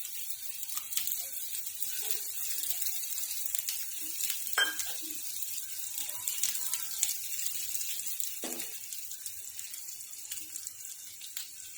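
Garlic sizzling in hot oil with cumin seeds and asafoetida in a pan, a steady soft frying hiss with occasional clinks from stirring, no talk.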